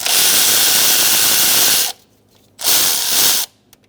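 Power tool backing out a bolt on the valve cover of a 2002-2006 Toyota Camry: two loud, hissing whirring bursts, a long one then a shorter one, separated by a quiet gap.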